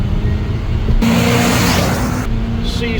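A 1991 Ford F350 4x4 brush fire truck with a 460 V8 and C6 automatic drives along with a loud, steady engine drone and road rumble, rising into a brief louder rush of acceleration.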